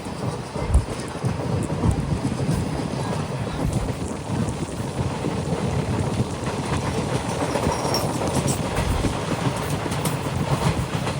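The Kanchanjungha Express rolls through tea-garden country toward Dibrugarh, a continuous loud rumble and rattle of wheels on track with rhythmic clickety-clack knocks running throughout, recorded from onboard in sleeper class, with no talk.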